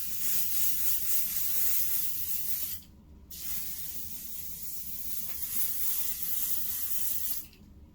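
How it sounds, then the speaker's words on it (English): Basting spray hissing onto layered baby blanket fabric, a steady close spray lasting a few seconds, breaking briefly, then continuing before a second short pause near the end. "So now that it's all stuck together with basting spray,"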